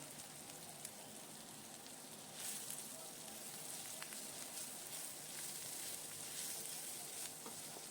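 Four chopped green chillies frying in a small amount of oil, giving a faint, steady sizzle like light rain that grows slightly livelier partway through, with no talking.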